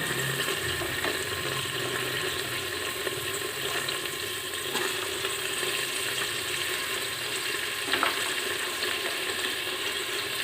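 Onions frying in oil with mustard seeds in a pan for a Punjabi green chickpea curry, a steady soft sizzle with scattered small crackles and pops throughout.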